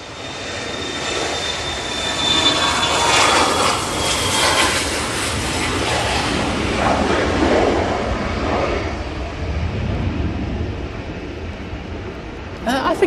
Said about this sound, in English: BizJet now on the roll.